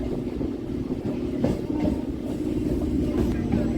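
A local train arrives at Majerhat station platform, rumbling steadily with rolling wheel noise and faint clatter, a continuous heavy drone that holds throughout without fading.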